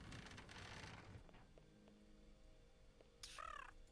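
Bird on a rooftop in the Sherlock Holmes: Nemesis video game giving one short, harsh, crow-like call near the end, after soft ambient rumble and faint clicks, with no talk.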